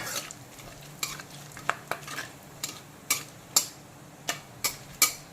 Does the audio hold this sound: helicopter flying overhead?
no